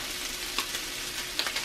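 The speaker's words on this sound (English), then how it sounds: "I don't see why I can't cook potatoes on one side," Potatoes and corned beef hash fry side by side in a cast iron skillet, a loud, even, close sizzle with a couple of faint clicks from a utensil.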